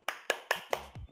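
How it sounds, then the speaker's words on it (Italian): Four sharp, evenly spaced hand claps, close and fairly quiet, followed by a brief low vocal sound. "Un applauso per Virgo."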